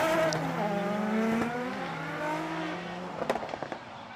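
A Nissan S15 drift car on Kenda tires at Formula Drift Japan, its engine droning at a steady, slightly shifting pitch, then a burst of crackles and pops near the end.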